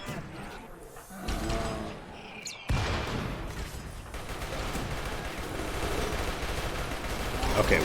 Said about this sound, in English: Okay, we're all firing.